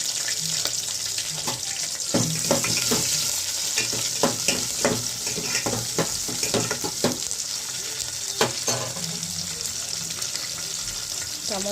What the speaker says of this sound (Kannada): ಈರುಳ್ಳಿ ಹಾಕ್ತಾಯಿದ್ದೀನಿ ಈರುಳ್ಳಿ ಹಾಕ್ತಾಯಿದ್ದೀನಿ